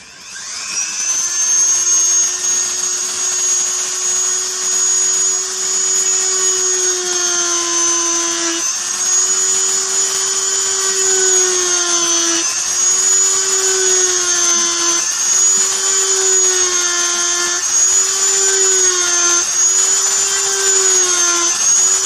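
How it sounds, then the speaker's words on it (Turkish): A power drill bores holes in PVC pipe for a homemade lamp, a loud, steady high-pitched whine that dips briefly in pitch as the bit loads up, running continuously for about twenty seconds with no talking. "Delme çalışmalarına başlıyoruz."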